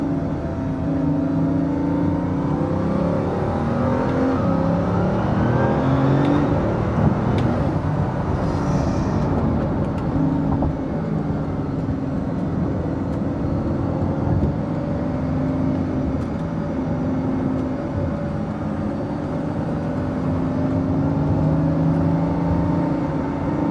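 Bugatti Veyron hypercar cruising on a highway, heard from inside as a steady loud engine drone with tire and wind roar, a brief rise in revs partway through, no talk.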